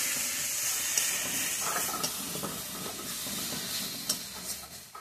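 Poppy seed and green chili paste frying in a pan, a steady close hiss and sizzle running throughout with a few faint stirring scrapes, no talking.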